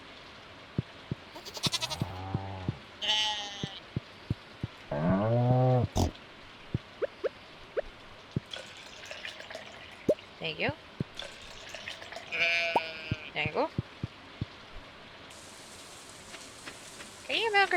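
Sheep bleat in a farming video game, several short cries scattered across the scene among light patter and clicks, with a person talking quietly at moments.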